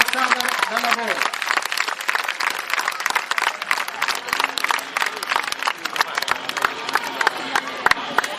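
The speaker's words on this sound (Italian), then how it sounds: "Un applauso all'associazione di Montasarda dal lavoro." Crowd applause and cheering for the Montasarda association at a Sardinian horse event in Oristano, a dense, steady clatter of many hands with voices mixed in throughout.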